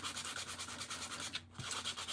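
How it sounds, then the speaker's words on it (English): Electric sander working over painted furniture to distress the finish, a steady broadband buzzing rasp that runs continuously with one brief dip partway through, close and fairly quiet. "I'm gonna grab my sander and I'm gonna start sanding and distressing."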